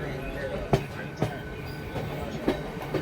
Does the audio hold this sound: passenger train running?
yes